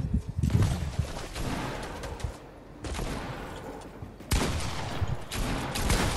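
Bursts of Fortnite gunfire crackle through a match in rapid volleys, with three loud sustained stretches of shooting separated by brief lulls and no talk over them.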